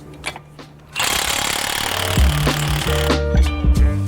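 A pneumatic impact wrench breaks loose the axle nuts on a VW Golf 7 GTI. It starts with a few light clicks, then a loud, close, continuous hammering rattle that surges and pulses for about three seconds.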